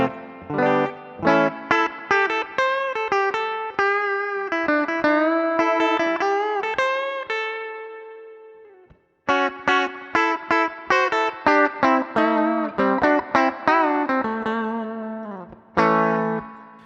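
A Donner DST 152S electric guitar played clean picks out a bright phrase of quick single notes and short chords. It stops briefly midway, then a second run of similar plucked notes follows.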